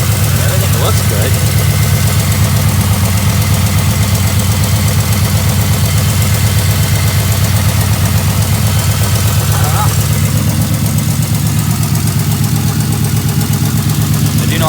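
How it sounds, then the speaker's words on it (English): A Pontiac Trans Am engine idles loudly and steadily up close, a rough rumbling drone with a massive exhaust leak adding a ticking rasp. "I have a massive frigging exhaust leak though there."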